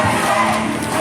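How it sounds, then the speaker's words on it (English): A crowd at a men's USA vs Slovakia bronze medal hockey game roars in a loud, continuous wash of cheering and chanting, heard only briefly. "The crowd getting into it here"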